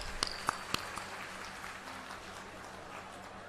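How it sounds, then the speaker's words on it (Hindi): A crowd at a political rally in Faridabad, Haryana, claps in a steady, faint wash of applause after a few sharp louder claps near the start. "एक बार आप सभी के लिए तालियां"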